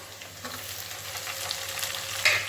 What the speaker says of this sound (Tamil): இப்போ வெங்காயம் வந்து நல்லா வதங்கிடுச்சு. இப்போ வந்து நம்ம தக்காளி போட்டுக்கலாம்.